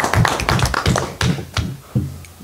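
Light hand clapping at a council meeting, a few scattered bursts of taps rather than full applause, quick and close, with no talking over it.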